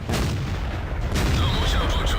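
A heavy booming tank cannon shot in World of Tanks, with a dense low rumble, followed by a second boom and a faint whine, with no voices.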